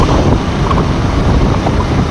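Loud, steady wind roars and buffets across the microphone of a motorbike in motion on a road, a constant rushing noise that fills the whole stretch, with no voices.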